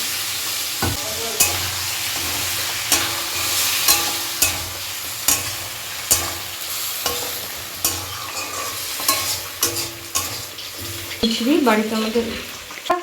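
Ginger paste frying in a pan for a Bengali spinach dish, stirred with cumin-coriander paste as a splash of water goes in: a steady close sizzle broken by regular spatula scrapes, with a louder bubbling hiss near the end.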